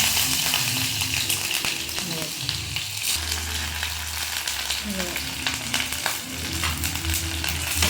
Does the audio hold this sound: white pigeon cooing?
no